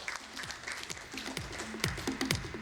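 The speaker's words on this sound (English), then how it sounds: "And can we have a huge round of applause?" An audience at a corporate presentation claps in a dense patter of scattered hand claps, moderately loud and sustained throughout.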